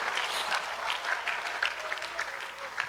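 A church congregation claps together steadily throughout, a dense wash of many hands with some faint crowd voices mixed in.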